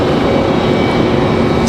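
A Delta jet taking off from Raleigh-Durham airport, a steady broadband engine roar holding loud and even throughout the short stretch, with no voices.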